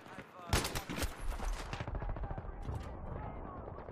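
Bursts of automatic gunfire in Battlefield 3, fast rattling volleys with sharp cracks up close, thinning into a quicker trailing rattle, while someone talks over it.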